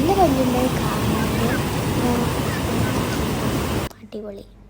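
Flowing river water in Kollengode, Palakkad, Kerala makes a steady, close rushing wash for about four seconds, then cuts off abruptly as someone begins speaking.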